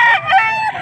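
A rooster at a public market in Angeles, Pampanga gives a short, loud, close crow.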